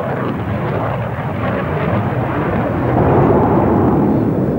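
Russian jet fighter performing at the 1992 Farnborough airshow, a loud continuous roar that swells slightly toward the end, with no voices over it.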